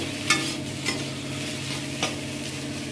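Potatoes fry in a pan on a steady sizzle, with a few sharp spatula scrapes and knocks as they are stirred, close by and with no voices.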